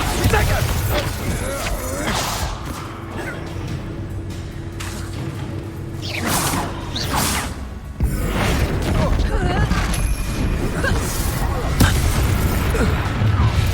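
Bombarda blasts in the Hogwarts Legacy video game crash with booming bursts amid dense combat effects and a continuous game soundtrack, with voices cutting in during the fighting.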